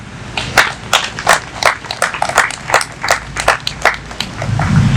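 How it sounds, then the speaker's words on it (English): An audience at a 2024 mental health awareness camp claps together in a steady rhythmic beat, distinct sharp claps repeating about twice a second, with a low rumble toward the end. "I want us to give a clap offering for the people who are working"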